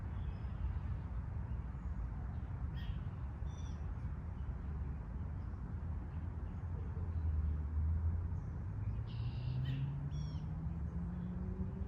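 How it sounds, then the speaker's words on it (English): Low, steady hum of car traffic far off beyond a forest, a faint broadband rumble with a slowly rising engine drone near the end and a few soft bird chirps over it. "And the hum of cars in the distance."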